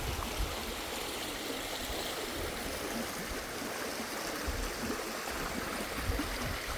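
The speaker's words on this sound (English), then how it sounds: "This would be where Shovel Creek comes down." Shovel Creek pours into the Klamath River, giving a steady, close rushing and gurgling of flowing water with no voices.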